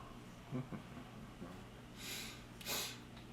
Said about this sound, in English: Sorry, so some sniffles.